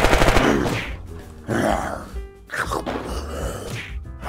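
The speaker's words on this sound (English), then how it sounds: "we want to start shooting at him" Gunfire in the video game Unturned, shots fired at a zombie in bursts over several seconds, loud and close, with game noise filling the gaps.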